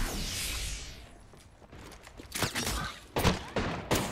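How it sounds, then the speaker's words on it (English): Gunfire in Apex Legends: scattered bursts of sharp game shots and impacts, moderately loud, with some thuds and mechanical clicks between them. "getting shot at."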